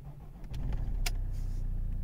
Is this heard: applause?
no